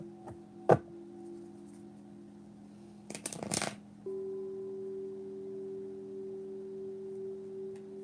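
Tarot cards shuffled for a reading, with a short sharp riffle and then a longer burst of papery shuffling, close and fairly quiet over a steady low electrical hum and a faint sustained tone.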